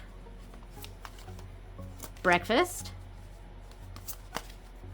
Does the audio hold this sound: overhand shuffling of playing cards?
yes